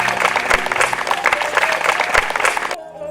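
A village crowd at a rural election speech breaks into brisk, continuous clapping with some crowd noise underneath, then cuts off abruptly.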